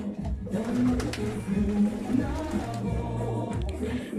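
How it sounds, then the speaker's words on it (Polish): Homing pigeons coo in a loft, with low throaty calls that overlap and repeat, close and steady throughout. "taki zbudowany, mocny gołąbek pocztowy"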